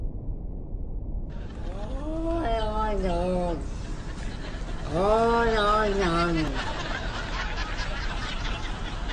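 A cat makes drawn-out, wavering vocalizations like a famous talking cat, two separate warbling calls rising and falling in pitch over a steady background hiss.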